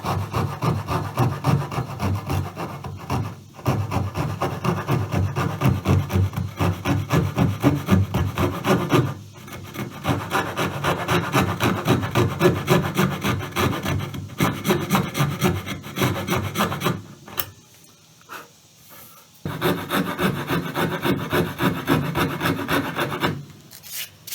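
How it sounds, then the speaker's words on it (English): Rhythmic back-and-forth strokes of a hand saw cutting a chamfer along the edges of a wooden baby rattle, close and steady, with a couple of brief pauses between runs. "I'm going to cut a chamfer all the way around both edges, following these lines with my clipping saw"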